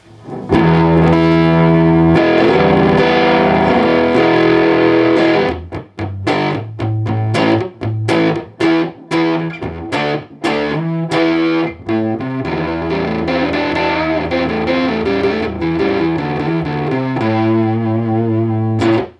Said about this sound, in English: So we're starting off on Vintage Distortion.